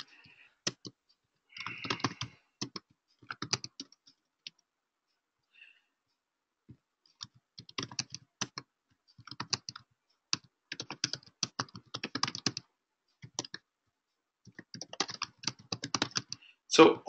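Close computer keyboard typing in irregular bursts of quick clicks, separated by short pauses and near-silence.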